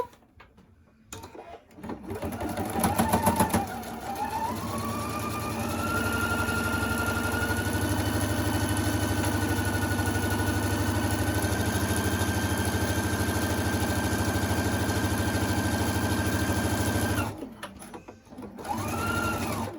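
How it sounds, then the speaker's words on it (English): A sewing machine stitches down the edge of a folded rectangular fabric face mask. Its motor runs at a steady, loud, whirring hum for about fifteen seconds without a break. Short bursts of stitching come before and after the long run. "I'm going to start at the top and I'm going to stitch all the way down to my bottoms."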